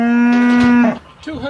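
A Limousine cow on a farm lets out one loud, close moo lasting nearly a second, followed by a quieter low lowing sound, with no talking.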